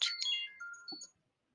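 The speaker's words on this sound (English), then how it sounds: "my phone is ringing" A phone ringtone chimes in a quick run of bright melodic electronic tones, loud and close, lasting about a second before cutting to silence.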